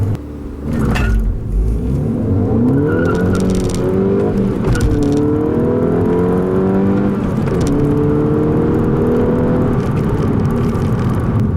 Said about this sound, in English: Alright, uphill 0 to 60,